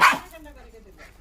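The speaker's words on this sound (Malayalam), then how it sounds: "എന്നും കാണും നന്നായി ഈ കിടന്ന് കുരയ്ക്കുന്നതേ." A pet puppy gives one sharp, close bark, and a person's voice follows right after it.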